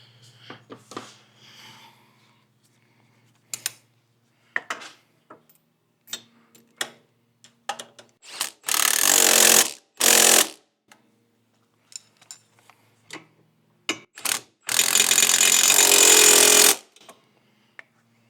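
Exhaust bolts on a Segway Villain are tightened with a 13 mm socket and 12 mm wrench, a loud close ratchet clicking in scattered short ticks and two sustained buzzing bursts, with quiet pauses between.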